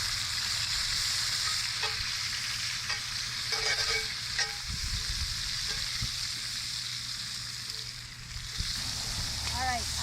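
Asparagus fries in a pan with a steady sizzle and occasional stirring scrapes close by, continuous throughout with no talking.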